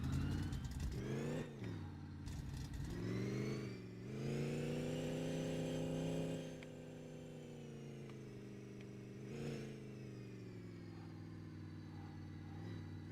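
Car engine revving hard and droning at high speed in the My Garage driving game, cruising past 260 km/h through Middletown after a 500-horsepower reduction; loud, steady engine tone with rising and falling pitch shifts, no talking.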